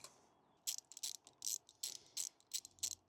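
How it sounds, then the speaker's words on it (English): The original bar-end weight is unscrewed from the handlebar of a Voge 800 Rally motorcycle with a ratcheting tool. Quick, close bursts of crisp clicking come in short strokes with brief pauses between them. "And this should just unscrew out of there."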